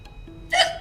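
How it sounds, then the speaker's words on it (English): Single quick hiccup sound effect for a cartoon cat in a read-aloud children's story, a short bright burst heard close and alone after a faint lead-in. "Pete still has the hiccups."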